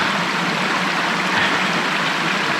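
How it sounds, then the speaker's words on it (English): A cold mountain creek rushes and burbles in a continuous broadband wash, close and steady, with no voices heard. "Cold, cold Mountain Creek."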